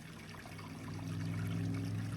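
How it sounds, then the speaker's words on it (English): Continuous trickling and splashing of water leaking from a pipe, steady and fairly close, gradually getting a little louder. "See some leaking around the pipe."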